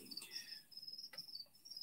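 Extra small feeder crickets kept for frogs and geckos, a faint, steady, high-pitched chirping trill running throughout with brief pauses and a quiet background.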